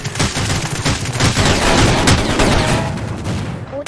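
Heavy gunfire, including shotgun blasts, in the video game ROS (Rules of Survival), a loud, dense stretch of overlapping shots that barely lets up.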